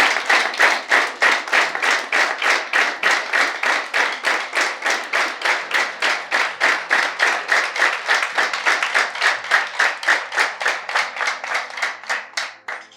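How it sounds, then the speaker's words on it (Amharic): A small audience at an office coffee gathering in Addis Ababa claps warmly in rhythmic unison, with loud, close, evenly spaced beats that continue steadily for a long stretch before easing off at the end. "እስቲ ሞቅ ያለ ጭብጨባ።"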